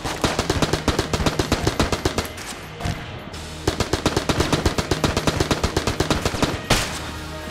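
Rapid automatic gunfire from a gun in the PC game Enter the Gungeon, loud and continuous bursts with a brief pause midway and a sharp blast near the end, no talking.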